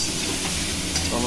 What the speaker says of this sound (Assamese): এয়া কেৰাহীত চিকেনখিনি দি দিলে তেল দিয়া নাই ডাইৰেক্ট চিকেন দি দিছে